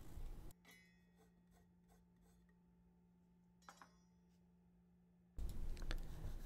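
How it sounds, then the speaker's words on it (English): A redwood ocarina block cut on a CNC router is rubbed with a piece of sandpaper, giving close, rasping strokes at the start and end with a quieter stretch and a steady low hum between. "so I only need to take a little bit off with a piece of sandpaper"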